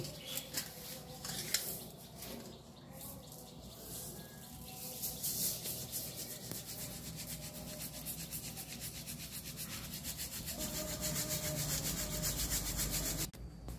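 Ground dried jujube powder being shaken through a sieve, a steady soft rubbing and scraping that continues throughout at moderate, even loudness, with occasional light taps and no talking.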